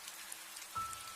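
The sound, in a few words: heavy rain shower, cartoon sound effect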